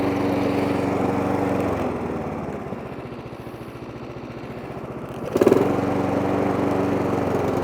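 A Mountfield mower with an SV200 engine runs at a steady drone, dips to a lower, rougher rumble for a few seconds, then revs back up with a brief surge, loud and close.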